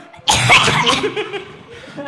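A soft cough burst, close up, trailing into breathy voiced sounds and a quiet tail.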